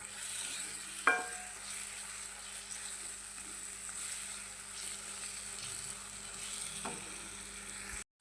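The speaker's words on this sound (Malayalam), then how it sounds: "ശർക്കര അതിൽ ചേർത്ത് കൊടുക്കുക. എന്നിട്ട് ആ ശർക്കര കൂടി അതിൽ ഇളക്കി കൊടുക്കുക." Stirring jaggery into frying curry leaf pickle in a pan, with a steady soft sizzle throughout and a sharp scrape or clink of the spoon near the start and again later.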